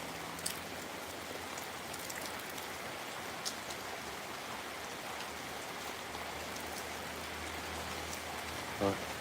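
Summer rain falling steadily on surfaces, a soft, even hiss of drops with a few faint louder drips, continuous and fairly distant, no talking.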